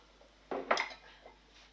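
A metal lid clanks onto a cooking pot for chicken noodle soup, two quick close knocks followed by a brief rattle that fades.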